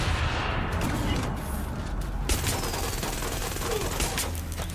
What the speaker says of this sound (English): people are shooting at me too